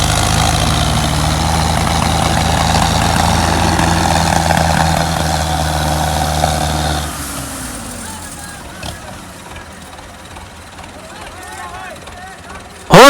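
A tractor engine labours under load in a tractor-pulling contest, a loud, steady, heavy low drone that eases off about halfway through to a quieter rumble.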